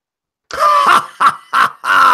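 A voice clears its throat in several short, harsh bursts, a longer rasp followed by three quick, gravelly pulses.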